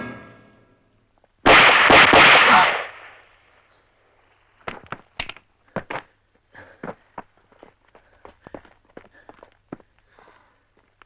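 A single loud, sharp gunshot rings out and decays, followed by scattered clicks and light footsteps-like taps nearby.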